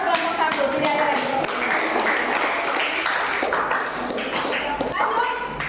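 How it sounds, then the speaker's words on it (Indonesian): A classroom full of students claps for a presenting group, a fast, sustained patter of many hands at close range, with voices and a short yip mixed in. "tepuk tangan dulu buat kelompok satu"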